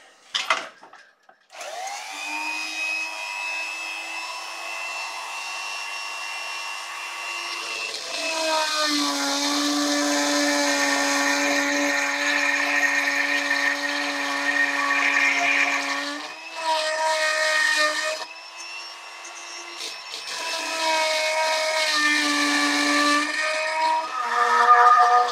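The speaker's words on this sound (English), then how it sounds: "so I've got my Axminster Dremel look-alike" An Axminster Dremel look-alike rotary chisel textures a turned wooden wall plaque, whining up to a high steady buzz that shifts pitch as it bites and lifts, with brief pauses, close and loud.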